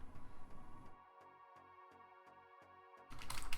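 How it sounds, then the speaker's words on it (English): Computer keyboard being typed on in short bursts, several evenly spaced clicks standing out clearly against a steady background, with louder noise swelling at the end. "you could just bash something on your keyboard"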